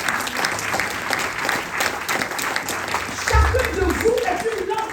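A church congregation applauds together in praise of the Lord, a steady wash of many hands clapping with voices and singing mixed in, growing fuller and louder near the end.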